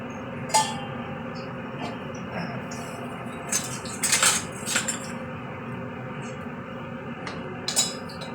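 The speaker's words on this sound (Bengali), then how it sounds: "আমি কড়াইটা ধরে ধরেই নাড়াচ্ছি।" Metal clinks and scrapes of stirring in a wok, held by hand while making gulab jamun from puffed rice, ring out over a low, steady background hum, in irregular clusters of sharp knocks.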